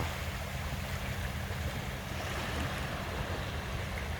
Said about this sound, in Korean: 파도가 와서 내를 쓸어 간다